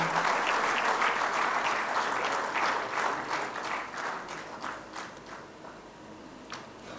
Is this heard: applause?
yes